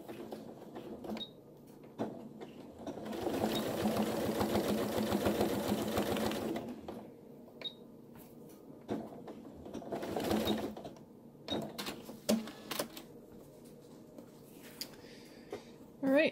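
A sewing machine stitches a seam on a bag made from upcycled, overdyed jeans, running in a steady whir for a few seconds, then again briefly, with quiet handling noises and occasional talk between runs.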